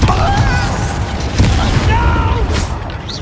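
Confringo fire spell being cast in Hogwarts Legacy: a loud booming blast over rumbling combat noise, with a brief burst near the middle and a voice speaking over the action.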